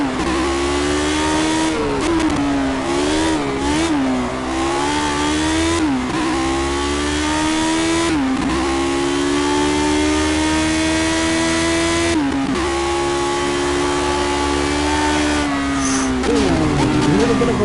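A Lotus 72D race car from the 1970s is driven hard around the Nordschleife in a racing video game, its loud engine howling steadily with repeated revving rises and drops as gears shift and corners come.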